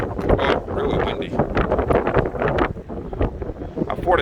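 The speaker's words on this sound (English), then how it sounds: "Oh, really windy." Strong wind buffets the microphone in loud, gusty rumbles that come and go in bursts.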